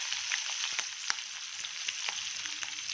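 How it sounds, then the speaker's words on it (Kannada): A single green chilli frying in hot oil in a pan, giving a soft, even sizzle sprinkled with small crackles and pops, with no voices. "ಇವಾಗ ಒಂದು ಹಸಿಮೆಣಸಿನಕಾಯಿ ಹಾಕಿದ್ದೀನಿ. ಇದು ಸ್ವಲ್ಪ ಫ್ರೈ ಆಗಲಿ."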